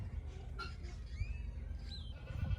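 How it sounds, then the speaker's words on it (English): Dairy goats, a mother with two kids in a pen, bleat a few times at close range, short wavering cries over a low background rumble, with faint bird chirps mixed in. "Dairy goats with her 2 babies"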